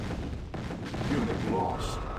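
Gunfire and artillery rumble through a strategy game battle, a continuous low roar of distant shots and booms beneath a voice speaking over it.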